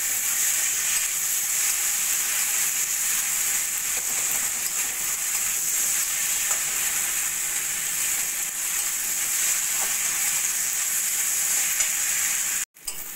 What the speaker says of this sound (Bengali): চিকেনগুলো বেশ ভাজা ভাজা হচ্ছে ততক্ষণ আমি কষিয়ে নিয়েছি।